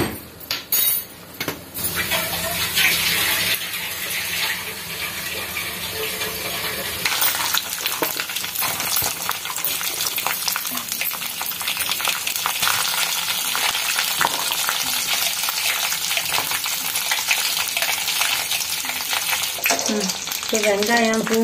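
Chana dal and urad dal frying in oil in a pan for a Tamil ivy gourd chutney, a loud steady sizzle with scraping stirs and occasional clinks of a utensil against the pan, no talking.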